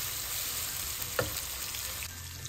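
Onions frying and browning in a pan for a chicken and chickpea curry, giving a steady close sizzle throughout with one brief stir or clink near the middle.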